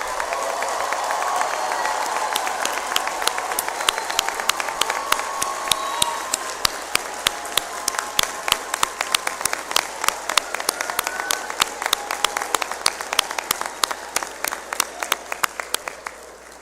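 Audience at a FAMU law school hooding ceremony applauding mothers and guardians, full sustained clapping that gradually thins into scattered individual claps, with crowd murmur beneath.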